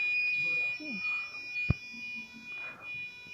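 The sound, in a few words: Arduino-driven buzzer making a varying tone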